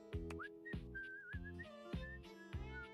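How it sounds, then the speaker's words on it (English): A character in the video game Date Everything whistles a short, bright, wavering tune over a plucky, bouncing musical backing, clear and alone with no talking. "He's whistling when you walk up on him"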